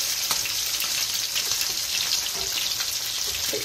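Hilsa fish frying in a pan, a steady close sizzle and crackle of hot oil with small pops and a faint scrape of stirring, no voices.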